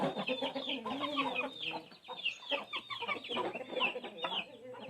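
Roosters and hens of a breeder flock cluck and chatter continuously at close range, a busy, overlapping stream of calls with brief pauses and no clear crow.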